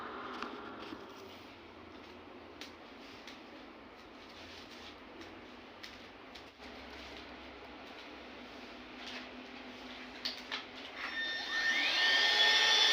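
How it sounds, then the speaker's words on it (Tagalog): A household vacuum cleaner runs steadily at a moderate distance while a helper does daily cleaning, its drone growing louder and brighter near the end as it comes closer, with no talk. "Then karon mag-vacuum na ta."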